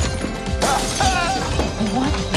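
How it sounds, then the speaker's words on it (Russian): A large wine bottle being smashed, heard as a sharp broadband glass shatter over dense trailer music and voices, with loud crashing bursts through a busy, full mix. "Хотите разбить эту здоровенную бутылку вина?"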